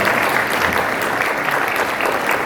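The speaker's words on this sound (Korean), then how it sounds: "우리 사랑하고 축복합니다. 박수해 주시기 바랍니다." A church presbytery assembly breaks into steady, dense applause from a large crowd of clapping hands, lasting throughout with no voices.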